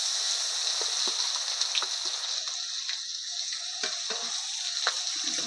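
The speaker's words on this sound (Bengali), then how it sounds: "দিয়ে হালকা ভেজে নেব।" A paste of ground mustard, chili and onion fries in a pan with a steady bright sizzle, close by, broken by occasional soft stirring scrapes and ticks.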